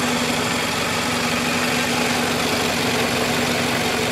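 A 2000 Toyota Camry engine with a newly replaced radiator idles in a steady, loud, close rumble with a constant low hum and broad noise, and no talking.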